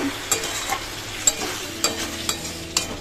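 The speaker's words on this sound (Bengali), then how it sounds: "চিকেনটাও কিন্তু আমি ভালো করে কষিয়ে নিচ্ছি" Chicken sautéing in a pan, a lively close sizzle with a spoon scraping and stirring in sharp strokes roughly every half second, no talk.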